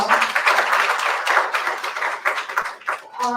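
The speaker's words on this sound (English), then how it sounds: "Can you have please round of applause for her?" A round of applause for a journalist from an audience at a media event, a dense close burst of many hands clapping that swells and thins over a few seconds, with a faint voice near the end.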